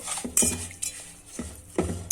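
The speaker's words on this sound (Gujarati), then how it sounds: "હવે આ બધું આપણે મિક્સ કરી લેશું" A utensil stirs semolina batter for dhokla in a bowl with a few distinct scraping, clinking strokes close by, spaced irregularly.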